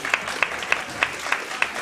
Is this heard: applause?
yes